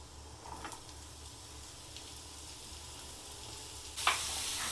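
Mushrooms and garlic frying over a high flame in a pan give a soft, steady sizzle with a few faint clicks, then a sudden louder burst of hissing near the end.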